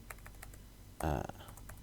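Keys clack on a computer keyboard in a quiet room, a few scattered light taps followed by a short burst of rapid typing, then more sparse clicks, close and clear.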